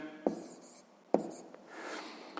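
Close, quiet pen strokes from writing sixth-grade math notes on paper: two crisp taps amid a light scratching hiss, no voice.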